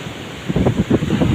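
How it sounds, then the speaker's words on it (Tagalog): Strong waves surge and splash in uneven bursts against a steady hiss of wind and water at Guimbal port in bad weather. "Lalaki ng alon dito."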